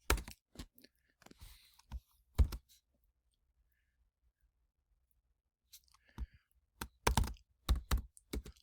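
Typing on a computer keyboard, irregular bursts of sharp close key clicks separated by a long silent pause before a faster cluster of keystrokes.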